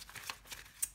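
Tarot cards drawn from a deck, a brief soft papery flick and shuffle with a sharp little snap near the end, faint and close.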